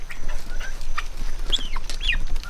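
Farm chickens cluck and squawk in short, scattered calls, fairly close, while working dogs herd them on a homestead, with a low outdoor rumble underneath.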